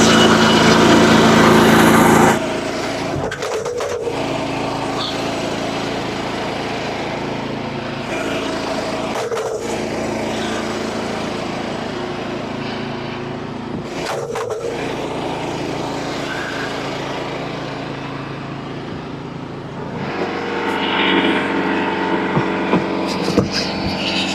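A sawmill engine drones steadily while milling lumber for a customer, a loud continuous mechanical hum broken by a few brief dips and thumps as cuts pass, with a harsher surge near the end.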